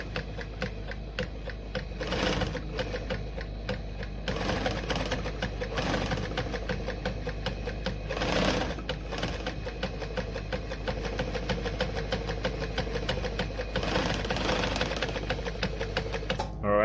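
A Frister & Rossmann model A-Z sewing machine runs a zigzag stitch in a fast, steady mechanical rattle with a low motor hum, broken by brief pauses and bursts, heard close under occasional talk.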